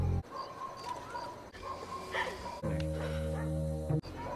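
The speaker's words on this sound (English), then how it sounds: "what I've come to know as the Goosebumps dog bark" A distant dog barks a few times in the style of the Goosebumps TV show, set against an eerie backdrop with a sustained tonal hum toward the end.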